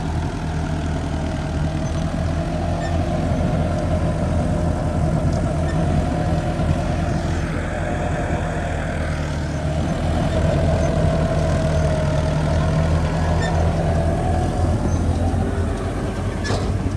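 A tractor engine runs at the start of the wheat season, giving a steady, loud diesel rumble that holds an even drone throughout with no pauses.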